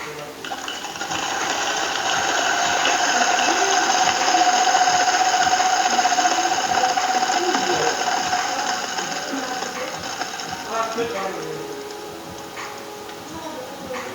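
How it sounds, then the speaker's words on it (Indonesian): A Timemore Sculptor electric coffee grinder works through 8 grams of beans in one steady, loud, close whirring run of about twelve seconds that eases off slightly near the end. "Kita giling"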